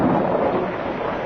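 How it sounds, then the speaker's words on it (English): Steady storm rain pours across the whole moment with a low thundery rumble underneath, a dense continuous wash with no voices, staged as a radio drama thunderstorm with rain over a car windshield. "In spite of the dramatic lightning and the rolling thunder."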